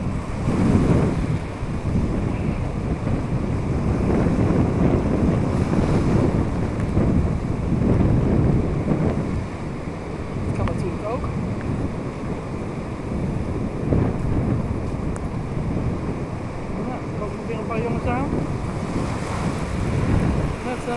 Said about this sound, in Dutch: Jeetje, wat een wind.